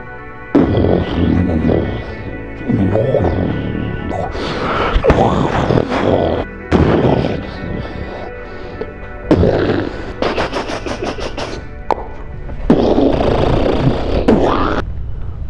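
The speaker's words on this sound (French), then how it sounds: "Et puis le Big Bang, grosse explosion sortie de nulle part." An explosion sound effect standing in for the Big Bang: a series of loud, sharp, gunfire-like blasts and booming bursts, separated by short gaps.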